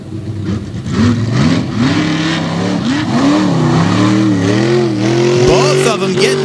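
A Windsor-powered Ford tough truck races at a 2021 tough truck event in Windsor, Pennsylvania, its engine revving loudly and steadily with rising and falling pitch as it accelerates, close and continuous, with a commentator talking over it.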